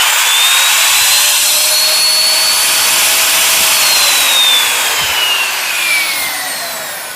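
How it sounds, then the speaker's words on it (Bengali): A Ken Company 1850 watt router runs alone, a steady high whine with a slight downward drift in pitch as it spins, close and loud, easing off a little near the end. "এই যে original can company router machine, এই যে আমি আপনাকে চালিয়ে দেখাই।"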